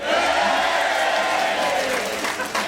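A festival audience applauding and cheering, a dense, loud wash of clapping with a few whoops throughout, close and continuous.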